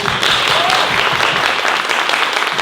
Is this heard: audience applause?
yes